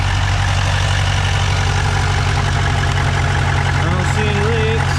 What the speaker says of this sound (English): You guys can hear me over the truck